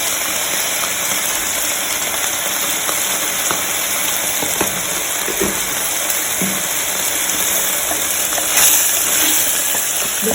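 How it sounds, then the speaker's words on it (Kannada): Chicken sizzles in a pan with turmeric and salt, a steady close crackle of frying with occasional soft scraping clicks of stirring. "ಅದಕ್ಕೆ ಅರಶಿನ ಮತ್ತು ಉಪ್ಪು ಹಾಕಿ ಚೆನ್ನಾಗಿ ಬೇಯಿಸಿ ಚಿಕನನ್ನು."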